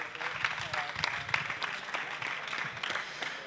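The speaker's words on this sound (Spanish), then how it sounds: "Aitor, un aplauso para Aitor, que va a empezar a contaros cosas." Applause from an audience welcoming a presenter at a talk about a high-altitude balloon launch, moderate and steady clapping lasting a few seconds with speech mixed in.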